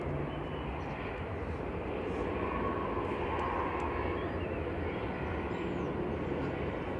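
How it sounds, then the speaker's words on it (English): An airliner on approach to Manchester Airport, apparently a small Logan Air ATR turboprop arriving from Inverness, gives a steady distant engine roar that holds at an even level throughout. "Next up for arrival on the approach is Aer Lingus Logan Air Flight 597 from Inverness"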